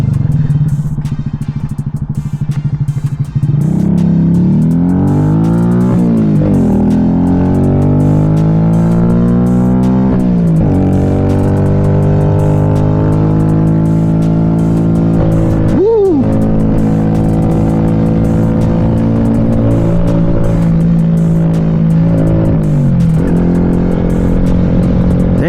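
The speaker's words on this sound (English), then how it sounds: "Now the exhaust, I feel, is loud, which I don't mind, but yeah, it's a lot louder than stock." A 2025 Honda Grom SP motorcycle with a loud aftermarket Stage 1 exhaust, heard while riding. The engine drones close and loud, rising and falling through several gear changes and rev swells, with a sharp blip near the middle.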